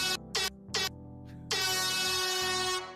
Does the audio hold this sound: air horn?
yes